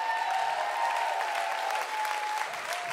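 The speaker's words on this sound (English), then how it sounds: "A big round of applause." Concert audience applauding, a dense, sustained wash of clapping that fills the whole moment at steady loudness.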